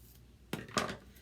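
Two quick cuts or snips into material for a black and white chalk paste design, close and crisp, with a short pause between them and no talking.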